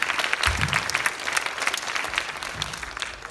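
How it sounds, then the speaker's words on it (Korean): A crowd claps steadily through a Friday chapel service held by a Korean campus Christian group in Daejeon, honoring a young woman's testimony. The applause is dense and continuous, with no voices over it. "박수 한번 쳐주세요."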